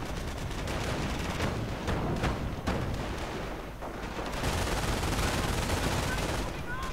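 Dense gunfire from riflemen and a machine gun in a real-time strategy battle game, with mines going off, a continuous loud barrage of overlapping shots and booms lasting throughout.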